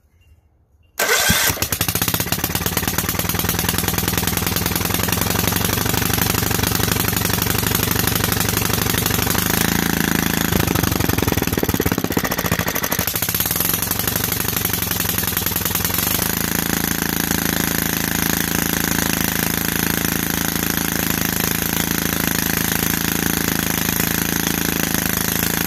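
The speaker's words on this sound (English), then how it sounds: "let's see if it'll fire on gas" Kohler Command engine on a Toro 13-38 HXL lawn tractor starts on gas at full choke after a moment of quiet, then runs loud and steady nearby, its throttle note shifting midway and settling back into a constant drone.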